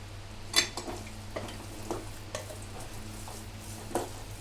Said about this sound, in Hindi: तो ये मैंने नारियल भी इसमें डाल दिया, इसको मिला दूंगी